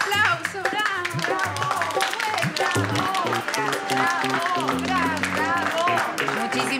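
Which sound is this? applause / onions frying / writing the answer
applause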